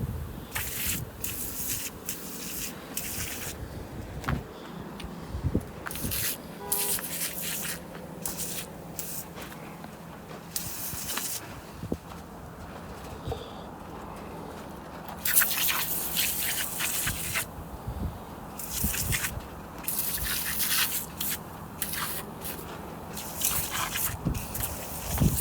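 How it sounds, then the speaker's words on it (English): A pressure washer blasting grime off a C6 truck transmission from a 1974 Ford F250, with intermittent hissing spray bursts and splattering water that start and stop repeatedly, close and fairly loud throughout. "So I'm gonna pressure wash this thing. Get most of this shit off I can."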